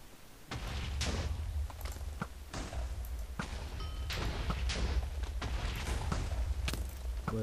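Sniper gunfire in a video game: a series of sharp, irregular shots and thuds over a steady low rumble, with no one talking.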